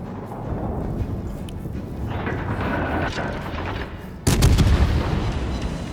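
Naval guns firing in World of Warships: Legends, a rumbling battle bed with a sudden loud, deep artillery blast near the end, followed by a heavy boom.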